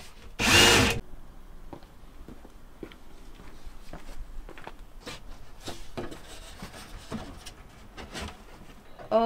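A power sander works on wood inside a campervan wet room. It gives short, intermittent rasping, scraping bursts, with a loud harsh burst at the start and quieter scratches and taps following.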